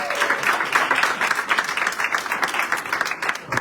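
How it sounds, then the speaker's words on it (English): Applause from attendees at a human and civil rights town hall meeting in DC rings out steady and fairly loud for a few seconds, many hands clapping together. "Please give him a round of applause"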